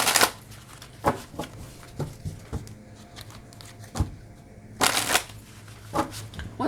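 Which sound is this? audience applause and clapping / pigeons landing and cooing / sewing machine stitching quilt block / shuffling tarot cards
shuffling tarot cards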